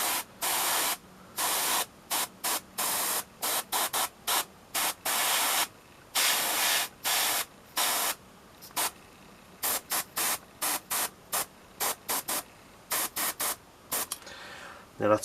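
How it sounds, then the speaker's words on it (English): An airbrush sprays thinned Mephiston Red paint onto a miniature in short and long bursts of loud, close hissing, starting and stopping in an irregular rhythm. "I'm coming in with some Mephiston Red in the airbrush"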